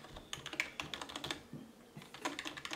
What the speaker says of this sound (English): here we have the keyboard, the main component of all this this bundle